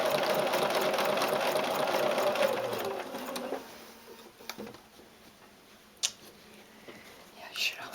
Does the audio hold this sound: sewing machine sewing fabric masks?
yes